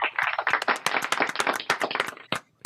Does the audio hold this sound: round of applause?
yes